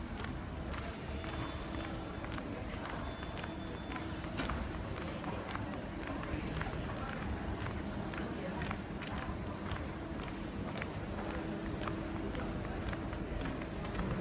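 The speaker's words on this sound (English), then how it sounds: "just walking the entire length of the platform in the train station" Footsteps walk at a steady pace along a train station platform's hard floor, with a reverberant hum of the large indoor space and faint distant voices.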